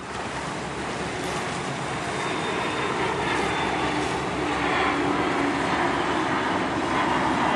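Steady, loud roar of a fixed-wing aircraft's engines at an air show, sustained and fairly close throughout, with a broad whooshing wash and no speech.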